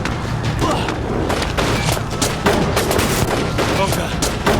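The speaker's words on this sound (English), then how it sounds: "The soldiers are shooting." Soldiers open fire in the video game 1979 Revolution: Black Friday, a dense continuous barrage of gunshots and booms that stays loud throughout, with a few sharper cracks standing out.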